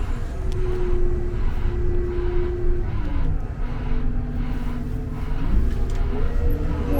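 Diesel engine of a Liebherr 586 loading shovel idling and pulling in reverse, a steady close, loud drone with a sustained tone that drops then rises as the machine shifts and moves.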